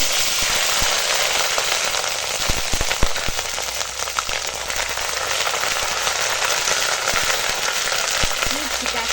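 Bay leaf and panch phoron spices crackle and sizzle in hot oil, a steady dense fry with scattered sharp pops throughout, close and continuous.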